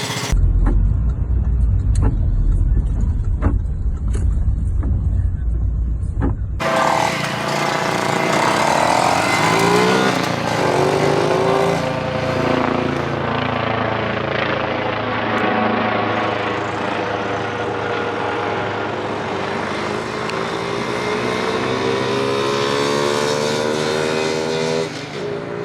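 A modified 50cc Monkey Bike revs hard and accelerates along a road, its high, buzzy engine note climbing and falling through the gears as it pulls away, loud at first and then fading.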